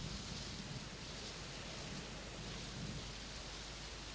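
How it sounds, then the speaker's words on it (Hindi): Heavy rain pours down in a steady, loud, unbroken hiss, with a faint low rumble underneath and no voices. "कितनी बारिश हो रही है।"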